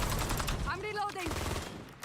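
Gunfire in the Black Ops Royale battle royale game, a dense burst of shots blending with game voice lines and effects, fairly loud and continuous through the short stretch.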